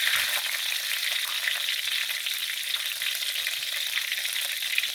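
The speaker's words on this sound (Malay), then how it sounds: "Kita goreng sampai dia masuk dah." Buttermilk shrimp fry in hot oil with a loud, continuous close-up sizzle, crackling evenly and without pause.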